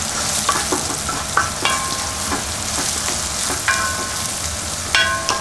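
Hara bhara kebab mixture with crushed coriander sautéed in a hot pan: loud, continuous close sizzling broken by repeated sharp scraping strokes of a spatula, with no talking.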